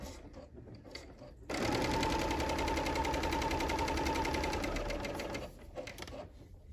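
A Bernina L850 air threading overlocker runs at steady speed for about four seconds, a loud, fast, even mechanical whir with rapid stitching clatter, starting and stopping abruptly against a quiet room.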